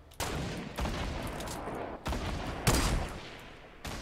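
Bursts of automatic gunfire in a Fortnite Battle Royale duos match, loud and dense, arriving in several sustained volleys with brief gaps between them and no talk over them.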